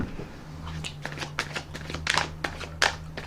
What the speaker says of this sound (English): I want to put another shuffle and another rifle on the cards.